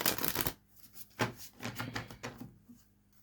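Oracle cards are shuffled up close in several quick, papery riffling bursts with short pauses between them.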